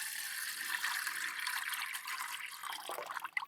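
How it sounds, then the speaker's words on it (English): Water pours steadily into a hot water bottle at a windy camp, a continuous close, bright splashing gurgle that tails off with a few louder glugs at the end. "Just sorting out his hot water bottle for him."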